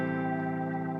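Rotary speaker modulation on a Boss GT1000 Core guitar effects processor, heard as a steady sustained chord swirling with a continuous warbling, spinning motion throughout, loud and alone with no voices.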